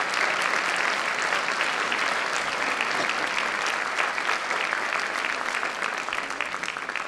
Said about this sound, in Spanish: Un aplauso para el doctor y licenciado.